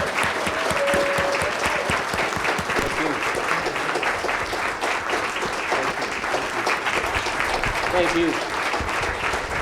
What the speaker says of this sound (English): I invite a big round of applause